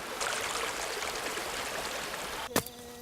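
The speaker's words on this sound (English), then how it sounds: "ending up with this steady flow of this river." A river flows steadily past, a continuous broadband rush of water with a faint gurgle, broken near the end by a brief sharp knock.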